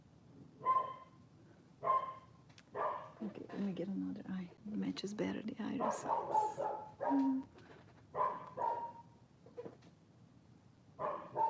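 A dog barks and yips in short repeated bursts in a quiet room, fairly near, alternating with a person speaking softly.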